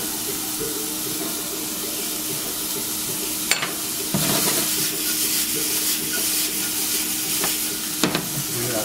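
Peppers hit a hot pan already frying onions, a steady close sizzle with a few sharp clatters as they are stirred in.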